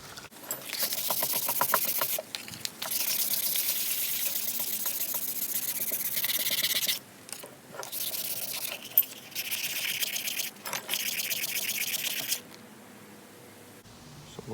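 An old axe head being sanded with 400-grit sandpaper to strip rust: bursts of dry, hissing abrasive scrubbing in repeated strokes, close and fairly steady, broken by short pauses.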